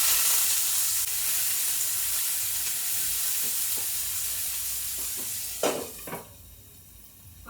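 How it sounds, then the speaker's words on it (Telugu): Mustard seeds, onions and curry leaves sizzle loudly in hot oil, a dense steady hiss that eases near the end as a few stirring scrapes and clinks come through. "సో ఆయిల్ వేసుకుందాం. ఆవాలు, ఆనియన్స్, కరివేపాకు వేసేసుకున్నాండి."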